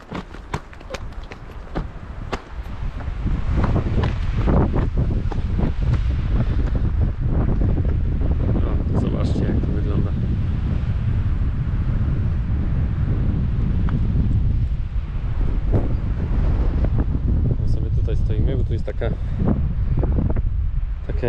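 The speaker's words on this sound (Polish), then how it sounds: "cały czas wieje" Strong wind blows at a camper outdoors around sunset, buffeting the microphone with a loud, continuous rumbling roar. It begins with a few lighter gusts, and voices are faintly present underneath.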